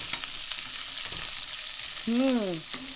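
Onions and garlic fry over high heat in a pan while being stirred, a steady close sizzle running throughout, with a brief voice-like tone rising near the end.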